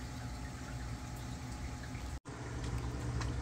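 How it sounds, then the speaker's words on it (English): A freshly plugged-in aquarium filter pump in a shrimp tank gives off a steady, faint bubbling hiss of air working through it, close by, with a brief dropout partway through. "Just plugged it in, you can still kind of hear the air bubbles getting sorted through it."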